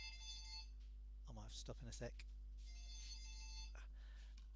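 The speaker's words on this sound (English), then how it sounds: "Oh, that's the phone." A telephone ringing indoors in repeated electronic bursts, two ring phrases separated by a short gap, fairly faint, with a voice speaking briefly between them.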